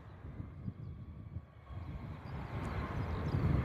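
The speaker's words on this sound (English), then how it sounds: "Here comes our helicopter by the sounds of it." A helicopter approaching at Bristol Airport: a low, rumbling engine and rotor drone that starts distant and grows gradually louder and fuller, with no one talking.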